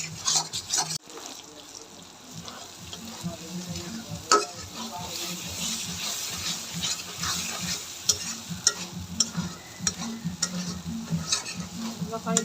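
Spice paste with tomato paste sautés for a goldfish curry, giving a continuous, fairly loud sizzle with regular scraping strokes of a spoon and occasional clatters against the pot, close up and without speech.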